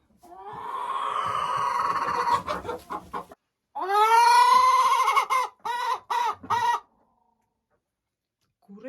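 A hen clucks loudly and repeatedly while laying an egg, in two long bursts of close, insistent calls separated by a short pause.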